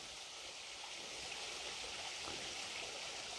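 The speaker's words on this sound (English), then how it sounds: "And the water just flows right down" Water runs down the concrete channel of an abandoned aqueduct, a soft, steady rushing hiss heard from a little distance with no voices.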